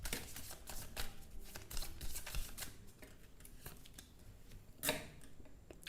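Tarot cards are shuffled and drawn, giving soft papery riffles and light flicks in uneven bursts close by, with a sharper snap near the end.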